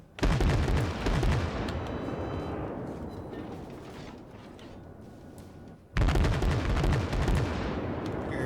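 Warship secondary guns firing in World of Warships, two heavy booming salvos several seconds apart, each with a long rolling rumble that fades away, loud and close, with no talking.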